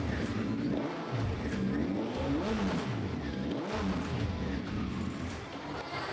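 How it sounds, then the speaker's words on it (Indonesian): A Honda CBR 919 SC33 with a 900 cc four-stroke, four-cylinder DOHC engine runs nearby, revving up and down in repeated swells over a constant engine drone, with no voices. "Sebenarnya enak suaranya, kayak motor-motor 4 tak biasanya. 900 cc 4 tak 4 silinder DOHC."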